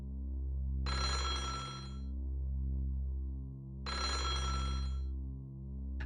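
A telephone rings in a video game in two long electronic trills separated by a pause, playing over a steady synthesized hum of low background music, with no voices.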